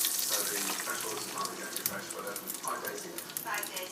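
Beaten eggs, with no seasoning or liquid, hit a hot pan and sizzle steadily, a close, continuous frying crackle.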